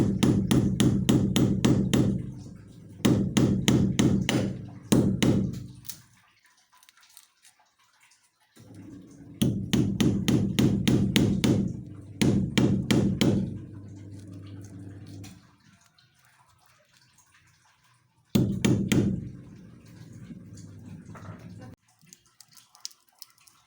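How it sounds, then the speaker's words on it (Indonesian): Large nail hammered into a bathroom wall while fitting a wall shelf without a drill, heard as three bursts of rapid, loud, ringing blows separated by short pauses. "Terus dipaku menggunakan paku gede."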